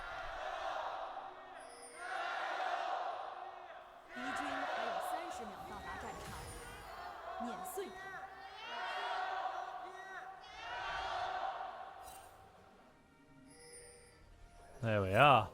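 An esports audience at a League of Legends LPL match in Xi'an cheers and chants in rhythmic swells, loud crowd waves rising and falling with a sharp burst near the end.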